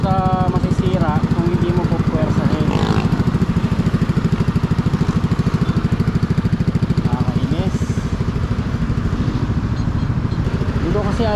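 A motorcycle fitted with a GP2 Villain exhaust idles close by with a steady, rapid, tinny putter throughout, while a person talks over the engine.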